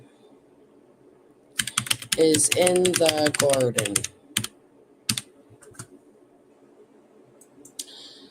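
Typing on a computer keyboard, a quick run of close clicking keystrokes with a few isolated taps afterward, under a brief spoken phrase.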